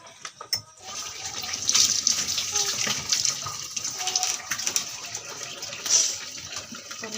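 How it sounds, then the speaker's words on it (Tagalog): Water poured from a container onto grated coconut for coconut milk, a splashing gush with a few bursts, heard close up. "Lagyan na natin ng tubig ang atong lubi guys."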